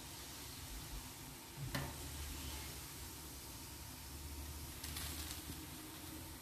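Cheese balls fry in hot oil, giving a soft continuous sizzle and crackle with a brief stir or clatter near the start and another burst of bubbling later, and no talking.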